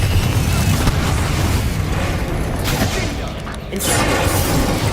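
Confringo fire spell blasting in Hogwarts Legacy combat, a dense, loud booming explosion rumble sustained over several seconds with crackling debris, briefly dipping before surging again, with voices mixed into the chaos.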